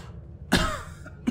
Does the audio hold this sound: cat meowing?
no